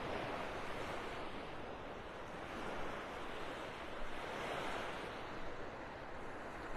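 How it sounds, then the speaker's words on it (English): Surf washes onto the beach at Delnor-Wiggins in North Naples, Florida, a soft broadband rush of breaking waves with gentle swells, joined by some wind noise, with no voices. "I'm going to take a little stroll north up this beautiful mile-long stretch of beach here at Delnor Wiggins."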